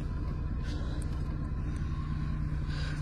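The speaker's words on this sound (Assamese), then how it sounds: "ইঞ্জিনৰ চাউণ্ড কি স্মুথ হৈ আছে" A used car's engine runs smoothly while driving, a steady low rumble and road drone heard from inside the cabin, continuous and even throughout.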